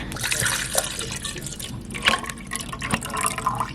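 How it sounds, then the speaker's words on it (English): Water is poured into the reservoir of a hotel room espresso machine in Greece, with close splashing, dripping and plastic handling sounds in short uneven bursts. "I assume I need to put some water in here"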